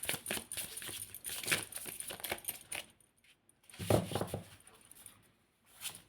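A deck of tarot cards is shuffled softly at close range, with several rustling, flicking bursts broken by brief pauses.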